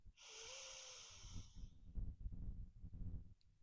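A slow, steady breath drawn in during a guided meditation, soft and airy with a faint wheezy edge for about a second and a half, followed by low rustling and muffled movement sounds.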